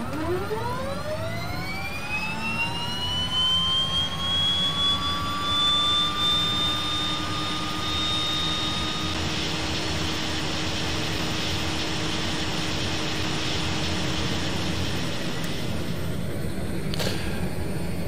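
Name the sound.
DHC-6 Twin Otter left engine starting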